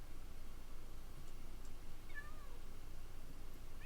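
A cat in a farming game gives a few short, quiet meows over a steady low background hum.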